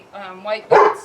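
A dog lets out a single loud bark right after a short bit of spoken words indoors, close to the listener.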